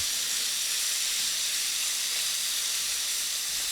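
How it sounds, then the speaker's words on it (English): Hot oil hisses and sizzles in a steady, continuous wash as thinly sliced whitetail venison stir-fries in a pan with too much oil, with no talking. "it's starting to splatter a little bit, and that's not cool. But extremely hot"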